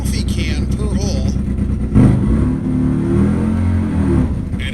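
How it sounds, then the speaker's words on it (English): A 200 cubic inch two-cylinder Harley V-twin race engine at a drag racing nationals event revs loudly with a deep, rough, lumpy rumble that rises sharply midway, while a voice talks over it throughout. "with a very different sound on that big Harley V-twin machine"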